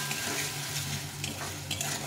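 A freshly ground paste of ginger, cumin and chili sautés in a pan, with a soft, even sizzle and a few light scrapes of a spoon stirring, faint and close, no talking.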